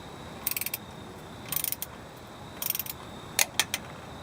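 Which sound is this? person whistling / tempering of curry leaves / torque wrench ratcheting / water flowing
torque wrench ratcheting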